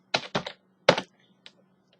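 Someone types a ping command on a computer keyboard, producing a few close, distinct keystrokes in an uneven rhythm: two quick clacks, a pause, a firmer strike, then a couple of faint taps. A low hum sits underneath.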